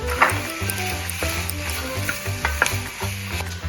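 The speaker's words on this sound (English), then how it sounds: "We're going to first add our onions, carrots, celery, and zucchini. We're going to let that saute for about 3 to 5 minutes." Onions, carrots, celery and zucchini sauté in olive oil with a close, lively sizzle. Steady tonal hum runs underneath, and a few sharp clicks and scrapes sound from the pan.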